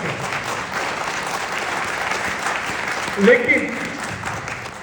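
An audience at a CWA Guru Shishya Sammelan gathering claps steadily. Someone speaks over the applause, and there is a brief louder burst of sound near the end.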